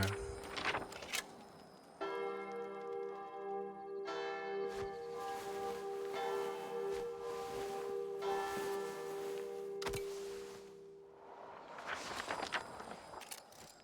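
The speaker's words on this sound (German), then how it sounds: "eine Glockenschlag." Church bell strokes in the video game Sniper Elite Resistance, a few spaced strikes whose rich ringing tones overlap and sustain, mixed with in-game footsteps and thuds that grow busier near the end.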